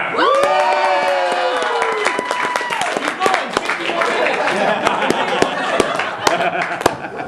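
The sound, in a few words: audience clapping and cheering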